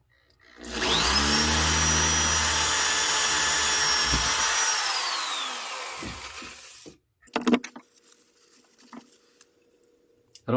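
A drill bores into a metal audio amplifier chassis with a dab of lube, a loud whining motor run of about six seconds, its pitch sliding as it slows, followed by a few sharp clanks and handling knocks.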